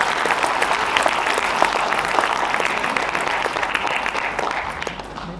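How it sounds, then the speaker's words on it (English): Audience applause at a college marketing-themed event, honoring the organizing committee: dense, steady clapping from a large crowd, loud and continuous throughout with no talking over it. "A big round of applause for the Industry Interaction Committee for making this event a huge success."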